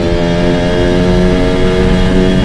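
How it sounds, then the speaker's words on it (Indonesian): Yamaha RX King motorcycle exhaust, a loud, close, continuous two-stroke drone at a steady idle with a buzzing, harmonic rasp and no voices. "tidak ini hanya fokus pada suara knalpot ya"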